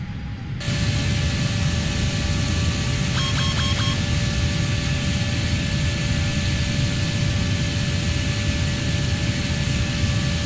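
Steady broadband engine roar of a Boeing 777F airliner in flight in Flight Simulator X, loud and unbroken throughout, with a brief series of faint electronic tones near the middle.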